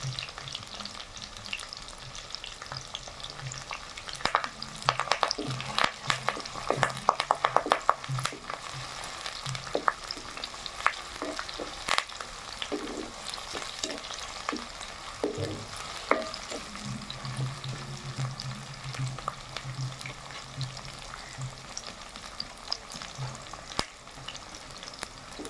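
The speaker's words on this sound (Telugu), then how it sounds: "తరుగు పెట్టుకున్న ఎర్రగడ్డ ముక్కలు వేస్తున్నా. కరివేపాకు కొద్దిగా." Onion pieces and curry leaves fried in oil for chicken chukka, a continuous crackling sizzle with bursts of stirring and ladle scrapes, close and unaccompanied by voices.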